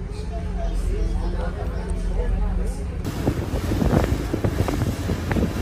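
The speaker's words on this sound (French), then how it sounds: "Ils viennent d'allumer les moteurs, donc on va s'en aller." Boat engines run as a ferry departs in Thailand, a low steady drone beneath heavy wind buffeting the microphone that grows louder and rougher halfway through, with water and hull noise.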